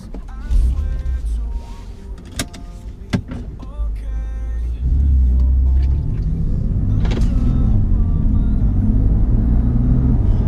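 A silver BMW M3 F80 on the move, its engine and road rumble steady at first, then deeper and louder from midway, with some faint clicks and interior noises over the drive.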